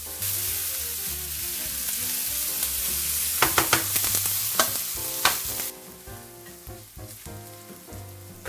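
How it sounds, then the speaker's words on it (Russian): Onion sizzling in hot olive oil in a frying pan, with a steady loud crackle and a run of sharp utensil scrapes and taps through the middle before the hiss settles lower. "Разогреваем оливковое маслице. Сначала закидываем лучок. Обжарим пару минут."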